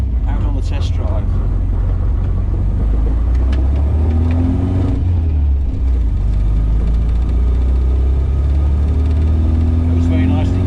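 A classic MGB sports car drives along on a test run after an engine replacement, a steady low engine drone and road rumble filling the interior throughout, with a voice talking over it.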